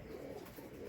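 Local desi pigeons in a home loft give a soft, continuous low cooing, faint and steady throughout, with no voices over it.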